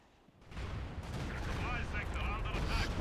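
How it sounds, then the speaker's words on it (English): Bombs and explosions from a Stuka dive bomber attack in the World War II strategy game Company of Heroes 2, a dense, sustained roar of blasts and gunfire building after a quiet start, with a tone whining through. "Stuka doing some nice damage there."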